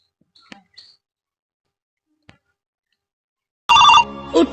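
A telephone rings loudly near the end after near silence, its bright electronic tone starting abruptly and pulsing briefly, with a few faint clicks before it.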